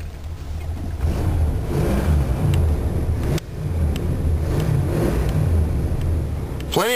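Engine of a car in need of a valve job revving in park, a loud steady low rumble with surges and one brief dip partway through, running alone.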